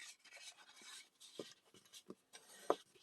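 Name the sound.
burnishing folded paper card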